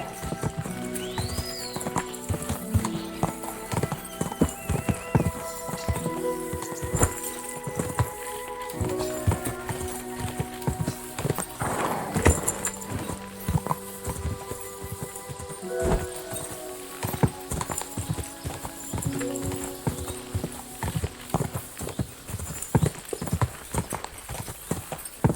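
Hooves clip-clop steadily on the ground in Kingdom Come Deliverance 2, a medieval role-playing game. The horse also gives a neigh, and faint game sounds sit underneath.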